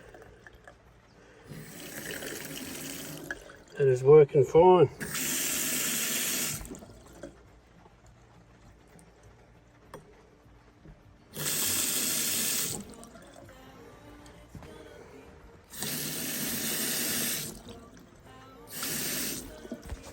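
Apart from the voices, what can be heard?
tank water gurgling through filter into off-grid shower and basin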